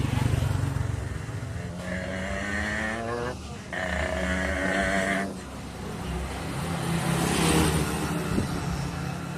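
A motorcycle on a test ride after its frame has been pressed straight, its engine droning steadily with a pitch that rises, dips briefly and climbs again as it moves along.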